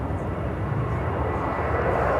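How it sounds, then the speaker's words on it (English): United Boeing 787 Dreamliner coming in to land on runway 28 Center at Chicago O'Hare from Paris, a loud continuous jet engine roar, steady and close, with no break throughout. "We have a United Dreamliner about to touch down on 28 Center, coming in from Paris"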